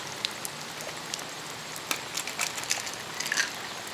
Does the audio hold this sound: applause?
no